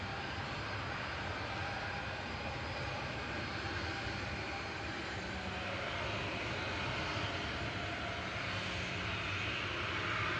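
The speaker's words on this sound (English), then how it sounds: "Flight 3445 for Ryanair going next over to Palma de Mallorca." A Ryanair Boeing 737-800 jet departing Manchester Airport gives a loud, continuous engine roar that holds steady and slightly swells over about ten seconds, with no talking.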